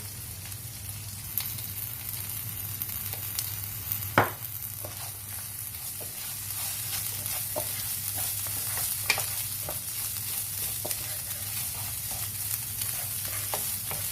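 Rice and minced meat cooking in a pan for a rice and meat gratin, with a steady sizzle and occasional scraping clicks of a spoon stirring, continuous and close, no talking.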